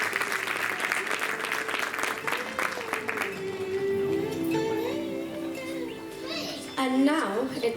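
An audience applauds at a religious community celebration, a dense wash of clapping for the first few seconds that then fades, followed by children's voices and music-like tones.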